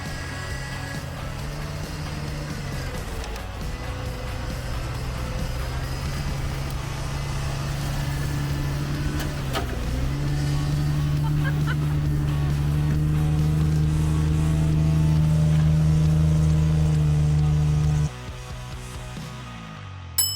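Snowverlander truck engine driving through a snow obstacle, a steady low rumble that builds and strains louder over time, then drops back near the end.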